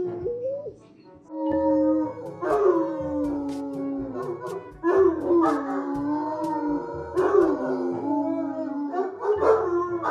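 A frightened dog whimpers and howls in long, wavering, voice-like cries, rising and falling close to the microphone in several drawn-out phrases with brief pauses between.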